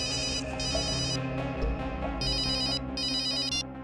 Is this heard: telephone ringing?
yes